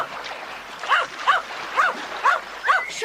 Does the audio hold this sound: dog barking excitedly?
yes